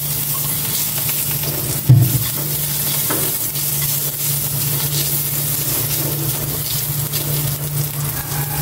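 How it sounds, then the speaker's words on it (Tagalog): Garlic sautés in hot oil in a frying pan, a constant close sizzle with a low steady hum underneath and one brief clatter partway through. "Gisa ko na itong bawang."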